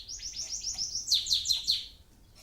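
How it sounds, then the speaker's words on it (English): A songbird chirps in a quick series of bright, high tweets indoors in a quiet, peaceful room, the notes rising and clustering near the listener while any clock ticking stays too faint to pick out. "just with that clock ticking and the bird"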